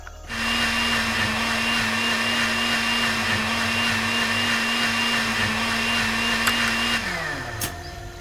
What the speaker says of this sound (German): Ich muss das noch mixen hier